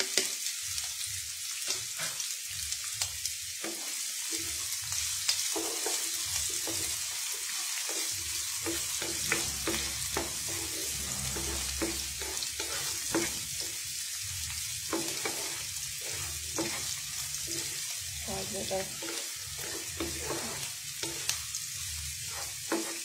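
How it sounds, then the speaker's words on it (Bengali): Onions and green chilies sizzle and fry steadily in a pan for prawn cheese pasta, with repeated stirring scrapes and a soft clatter running throughout, close and continuous, with no talking. "তো পেঁয়াজগুলো দিয়ে দিলাম কাঁচামরিচ সহ"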